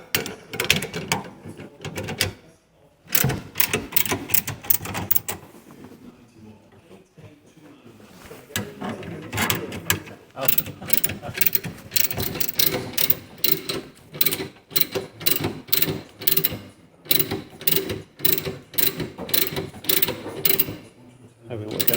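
Ratcheting spanner tightening a rear axle bolt on a Nissan Primastar van during bush replacement: rapid, close bursts of sharp clicking, with pauses between strokes and a longer lull before a sustained run of clicks.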